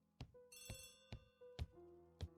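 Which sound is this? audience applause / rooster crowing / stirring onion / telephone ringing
telephone ringing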